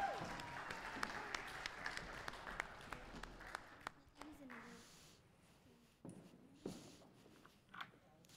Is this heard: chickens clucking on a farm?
no